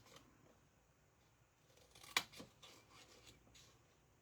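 Quiet scissors snipping through paper tabs during a craft project, with one sharp, close cut in the middle among faint soft rustles.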